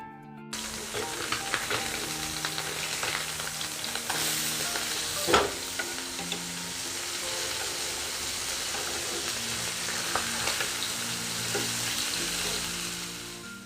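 Small fish frying in oil in a pan, a loud, steady crackling sizzle throughout with occasional spatters and a spatula knock.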